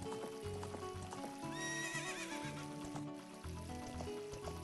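Horse in Zelda: Ocarina of Time giving a rising, wavering whinny midway, amid steady clip-clopping hooves and background game music.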